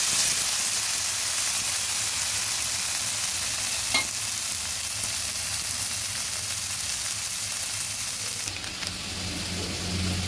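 Spices frying with chili powder for Katla fish curry, a loud continuous sizzle with a single clink partway through and a slight drop near the end, with no talking.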